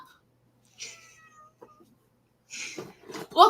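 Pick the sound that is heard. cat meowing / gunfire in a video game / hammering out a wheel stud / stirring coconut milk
cat meowing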